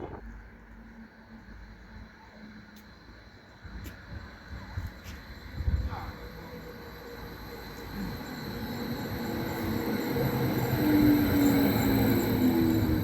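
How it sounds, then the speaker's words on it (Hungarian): Train standing at a terminus station rumbles and hums steadily at close range, swelling louder toward the end with faint metallic squeals and clanks, no talking. "megjött a vonatom, ott áll még bent a végállomáson"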